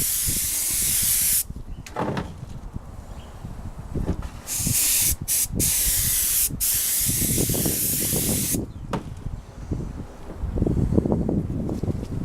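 Spray paint hisses in long steady bursts onto a Yamaha RZ350 motorcycle fuel tank, with short pauses between passes and nearby handling noises in a quiet outdoor spot beside a house.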